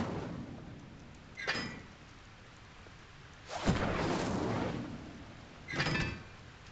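The Incendio fire spell is cast three times in Hogwarts Legacy, each a short, rushing burst of flame that flares up and fades, with a faint rumbling ambience between casts.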